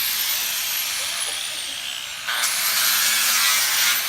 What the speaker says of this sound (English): She's in full beast mode using a 7-inch grinder.